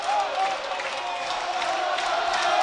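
A college basketball crowd at a Skyline Conference semifinal between YU Maccabees and Farmingdale State lets out a steady, distant roar of cheering that fills the gym, holding at an even level without breaks.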